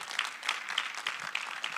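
An audience at a Black Caucus town hall on Black sexual health gives applause for Dr. Morrison, a steady wash of clapping from many hands with a few sharper claps standing out, fairly close and without talk.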